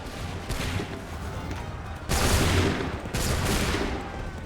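Soldiers' musket volleys in Assassin's Creed 3, heard as several loud, broad bursts of massed gunfire crashing in one after another over a noisy battlefield roar, with the strongest volley in the middle.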